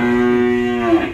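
A cow at a cattle market lets out one loud, close, sustained moo lasting about a second, with no other sounds over it.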